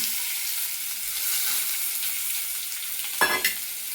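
Tomatoes frying in hot oil with mustard seeds for a quick curry: an even, close hissing sizzle, with a brief clatter near the end.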